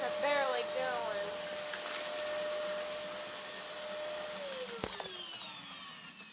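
A vacuum cleaner runs steadily with a high whine while sucking up a big mess, its motor pitch sliding down near the end as it strains, with a sharp clatter of debris just before five seconds.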